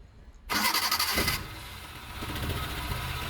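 A Maruti Omni van engine, freshly fitted with a new timing belt, cranks briefly and catches, then settles into a steady idle close by with no talking.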